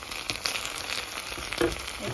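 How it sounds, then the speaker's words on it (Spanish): A slice of bread fries in hot oil in a pan, giving a steady, close sizzle and crackle that holds through the whole moment with a small pop near the end. "aquí estamos ya friendo lo que es una rebanada de pan"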